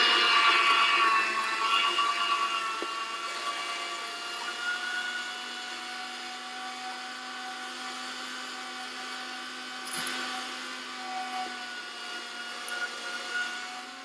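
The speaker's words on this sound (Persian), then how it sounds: "بعد از اینکه گوشت رو 3 بار چرخ کردیم" An electric meat grinder minces chicken meat with a steady whining motor hum and a grinding drone that runs for many seconds, fading slightly, with a brief clunk partway through and no speech.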